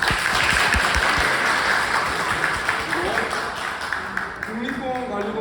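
Applause from an audience at a book talk, a steady wash of many hands clapping at once, sustained and fairly loud before thinning out toward the end.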